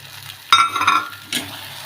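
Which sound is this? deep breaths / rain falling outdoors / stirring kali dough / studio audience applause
stirring kali dough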